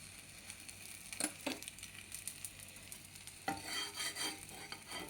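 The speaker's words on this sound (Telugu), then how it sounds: "నూనె వేయడం లేదు, నెయ్యి వేస్తున్నాను." Bread toasts in ghee on a pan with a soft, steady sizzle, broken by a few sharper scraping and stirring clicks.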